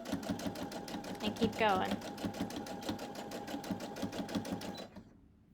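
A sewing machine runs steadily up close, its needle thumping in a fast, even rhythm while stitching fabric made from cuttings, then stops; someone talks briefly over it.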